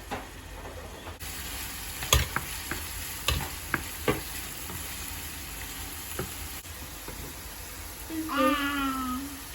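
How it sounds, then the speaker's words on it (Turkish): Onions and fresh green beans frying together in a pan for Turkish olive-oil green beans, a soft continuous sizzle broken by scattered clicks and scrapes of stirring, with a short vocal sound near the end. "Ben taze fasulyelerle beraber onları kızartıyorum."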